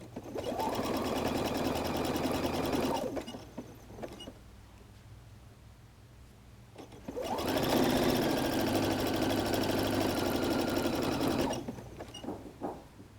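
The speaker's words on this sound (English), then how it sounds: "the center of my presser foot is riding along the line of stitching" Sewing machine running steadily as it stitches along fabric-covered clothesline rope to build a basket, two long bursts of continuous motor hum and needle chatter separated by a quiet pause, close and fairly loud with no talking.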